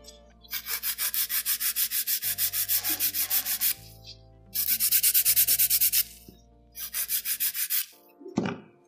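Rapid rhythmic rasping of a disposable sanding nail file stroking back and forth across short nails in three bursts, close and crisp, with short pauses between.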